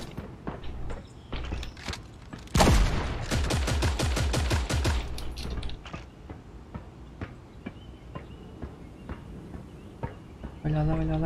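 Rapid bursts of gunfire from the video game Creative Destruction, a loud dense volley early on followed by scattered single shots and footsteps, with someone talking over it.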